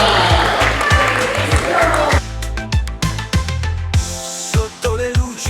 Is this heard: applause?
yes